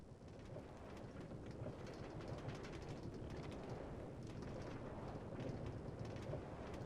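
A Minecraft minecart rolls along rails through the Nether, a steady, dense rumbling clatter that stays loud and continuous throughout with no talking.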